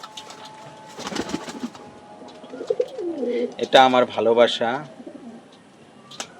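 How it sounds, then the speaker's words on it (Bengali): Pigeons bathing in turmeric-mixed water coo in a close, loud run of throaty calls through the middle of the clip, with a person speaking near the start and end. "প্রত্যেকটা কবুতরই স্নান করবে।"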